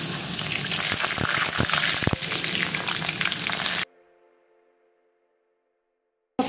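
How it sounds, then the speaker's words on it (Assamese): Mustard paste frying with pointed gourd in an oiled pan, a steady close sizzle with a few bubbling pops, lasting about four seconds before cutting to near silence and then resuming briefly. "সৰিয়হখিনি দি অকণমান ভাজিম।"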